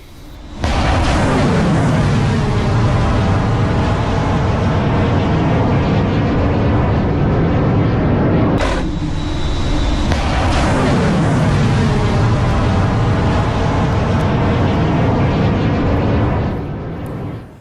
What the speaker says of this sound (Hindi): भारत ने आज मिसाइल परीक्षण किया है।